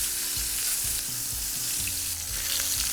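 Pork chops sizzle steadily on a hot grill, a dense continuous hiss with low thumps and scrapes beneath, close and fairly loud, no voices.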